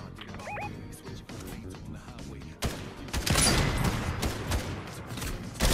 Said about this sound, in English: We're getting shot from behind.